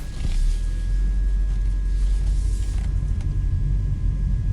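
A 2019 BMW X4 30i M pulls away after being shifted into drive, giving a steady, loud low rumble of engine and road noise with faint mechanical creaks and no voices.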